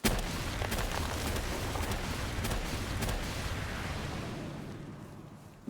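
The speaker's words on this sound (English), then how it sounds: "I can just spam grenades down at him." Grenade launcher rounds detonate in a rapid-fire video game barrage, a dense continuous rumble of overlapping booms that holds loud for several seconds before tapering off.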